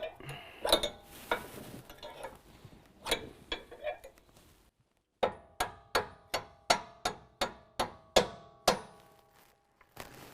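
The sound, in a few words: tapping a bolt into truck suspension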